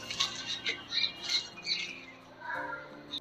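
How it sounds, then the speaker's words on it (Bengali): Birds chirp and squawk in short, repeated calls on an afternoon rooftop garden, fairly faint and slightly distant over a soft background hum. "বিকালবেলা এই হালকা পাখির আওয়াজটা ভালো লাগছিল"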